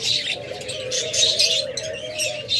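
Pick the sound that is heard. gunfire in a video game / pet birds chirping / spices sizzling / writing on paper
pet birds chirping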